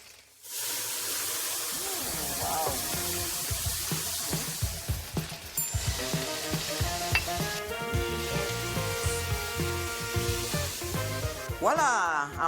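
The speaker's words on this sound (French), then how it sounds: "Le poulet est cuit. Je vais le colorer un peu." Chicken browns in a hot pan, a steady sizzle with frequent scraping and stirring clatter against the metal, fairly close and continuous throughout.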